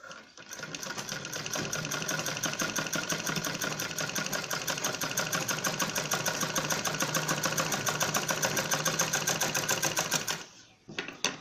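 A sewing machine stitches a fur-cloth bag with a zip, running in one steady, fast mechanical whir for about ten seconds before stopping, with a couple of faint handling knocks after.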